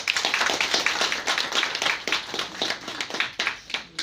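Guests at a retirement party in Rampur clap steadily for a shawl-honouring ceremony, producing a dense, close round of applause that pulses in uneven waves with no talking.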